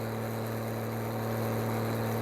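A tractor engine idles steadily in Farming Simulator, a continuous low droning hum with strong tonal bands, quiet and unchanging, with no talking over it.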